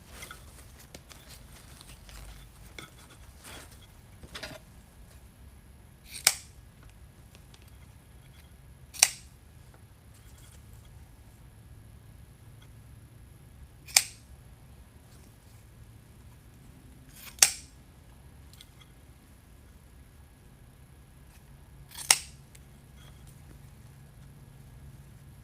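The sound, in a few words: scissors trimming a ribbon bow for a Christmas wreath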